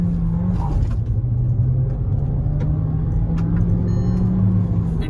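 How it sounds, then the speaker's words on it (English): Skoda Slavia engine droning steadily from inside a well-insulated cabin while driving, a continuous low rumble with a faint rising tone and no talk. "The engine sounds next level in this car."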